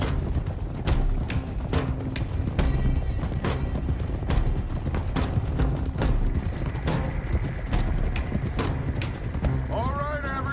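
Several horses gallop in a video game, a continuous fast clip-clop of hooves with creaking tack and an occasional whinny, while voices speak over the hoofbeats.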